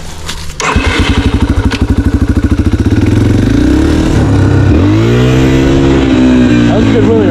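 A dirt bike engine starts with a sharp bang and pulses rapidly, then revs hard and climbs in pitch through a wheelie, loud and close throughout, with swelling and falling engine tones.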